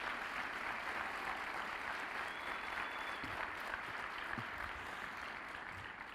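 A church congregation applauds, sustained dense clapping from a crowd that carries on steadily for several seconds and stays fairly faint, as if heard from a distance.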